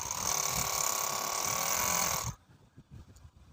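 An overlock sewing machine running a pico hem on cloth whirs at a fast, steady hum for about two seconds, then stops, leaving soft mechanical clicks and low room noise.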